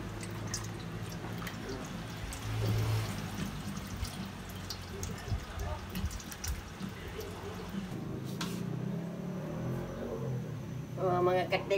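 Hot water poured into a pot to make law-oy vegetable soup, a steady splashing and dripping stream that runs throughout, with faint background voices.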